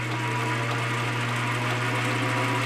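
A milling machine runs with a centrifugal governor spinning on it, giving a steady, close mechanical hum with a strong low drone and constant whirring throughout.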